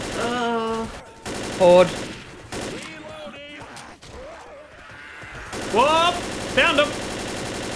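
Rapid gunfire in the zombie shooter Left 4 Dead, bursts of automatic shots cracking close by in several clusters, with excited players talking and shouting over and between the shooting.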